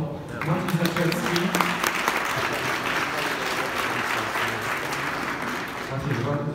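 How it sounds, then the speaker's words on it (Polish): A crowd claps steadily in sustained applause, with a voice speaking over the clapping at the start and again near the end. "Poproszę o duże brawa, proszę Państwa."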